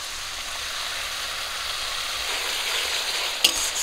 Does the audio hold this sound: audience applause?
no